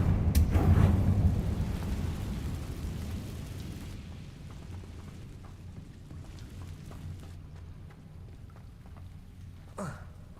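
Confringo fire-blast spell explosion from Hogwarts Legacy, a loud booming burst at the start that rumbles and decays into a crackling, rain-like wash, with a small sharp blast near the end.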